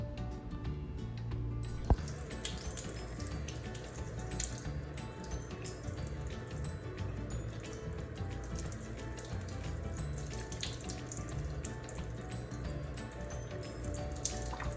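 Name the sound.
water running while rinsing hands before surgical scrub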